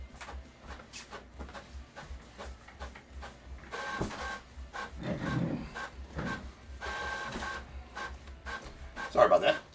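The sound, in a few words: printer running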